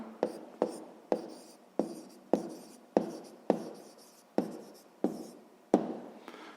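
A pen writes in a notebook during a sixth-grade maths exercise, making about a dozen evenly spaced scratchy strokes, each with a sharp start and fading tail, up close and alone.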